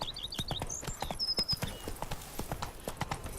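Roach, the horse in The Witcher 3, walks along with a steady clip-clop of hooves, close and even, while soft chirps and a brief whistle-like tone sound faintly above.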